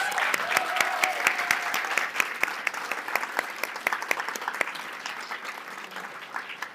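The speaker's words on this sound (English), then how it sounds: "Round of applause." A room full of people claps steadily for several seconds, with a faint voice briefly audible under the applause as it thins out.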